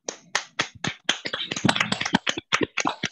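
A small audience claps for Abi Masturi and Umi Elis Ratnasari at a sharia business webinar, with sparse, uneven hand claps rising and falling for about three seconds and no talking.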